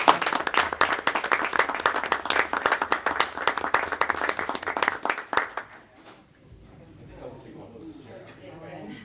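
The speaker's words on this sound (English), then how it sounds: "let's all give him a round of applause" A room of attendees at a village board meeting claps in a lively round of applause for about five seconds, then it fades into quieter murmuring and voices.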